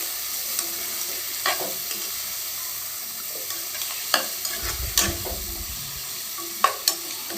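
Potatoes and tomatoes sizzle steadily in hot oil while a spoon scrapes and stirs them in the pan, producing occasional sharp clinks against a constant frying hiss, with no voices.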